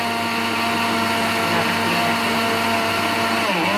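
An electric kitchen blender grinds lentils with a loud, steady whirring drone that holds constant throughout, shifting pitch slightly near the end.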